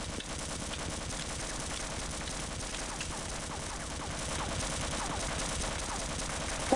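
A turret in the video game Half-Life fires continuously, a dense rapid stream of automatic gunshots at a steady rate, unbroken and fairly loud throughout with no talk.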